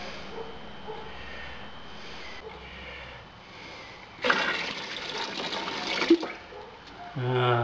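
Water is poured during a homebrew extract beer brew day, about half a litre. A quiet background gives way to a sudden splashing pour that lasts about two seconds, then trails off into softer trickles.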